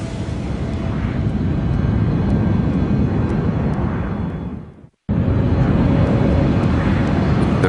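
Sustained, loud roar of an airliner in flight in a dramatized crash reconstruction of American Airlines Flight 965, a steady broadband engine and wind noise that cuts out abruptly near the end before resuming.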